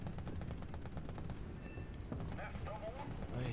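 Combat gunfire and blasts in an armored vehicle battle game featuring the Swedish ItO 90M 6x6 surface-to-air missile launcher engaging an Apache helicopter, rapid repeated reports in a dense rattling stream, with a voice speaking briefly near the end.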